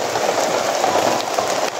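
Steady rain falls outdoors, a dense, even hiss of drops close by that continues unbroken with no voices.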